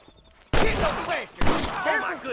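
Gunfire from the Western video game Red Dead Redemption bursts out loud in two dense volleys of overlapping shots, separated by a short lull.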